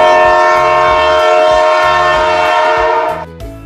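A train horn blares loud and sustained over rhythmic clickety-clack of wheels on rail joints, then cuts off near the end as the clacking continues briefly, a sound effect with no voices.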